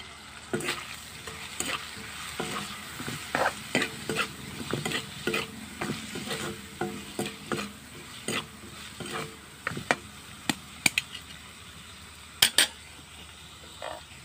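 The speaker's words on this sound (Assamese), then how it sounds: "আদা নহৰু, গুটি জালুক গোটেইখিনি দি দিলোঁ। এতিয়া ভালদৰে লৰাই লৈছোঁ।" Ginger, garlic and black peppercorns stirred in a pan over village-style cooking, a spoon scraping in irregular taps and clinks over a soft steady sizzle, close and moderately quiet with no talking.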